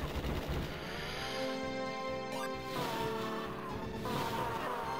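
Gunfire in the arcade war game Nam-1975, with rapid shots and crackling blasts over a busy, tonal game soundtrack. The sound stays moderately quiet and continuous, and there is no talking.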